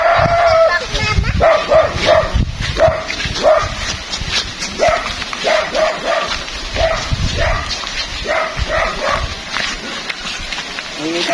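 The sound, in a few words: dog barking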